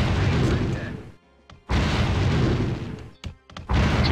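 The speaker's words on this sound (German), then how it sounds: "So, jetzt kommen die Kanonen. Werden verschossen." Cannon fire in the strategy game Anno 1602: heavy booming blasts in quick succession, loud and close, with short pauses between volleys.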